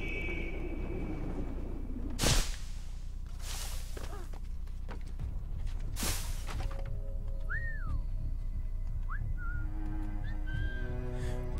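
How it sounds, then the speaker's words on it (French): A character whistles in the video game Assassin's Creed Liberation HD: a few short, clear, rising and falling whistled notes come late, after several sharp impact or landing sounds over low, steady ambient rumble. "là, ils ont pas fait d'effort sur le sifflement."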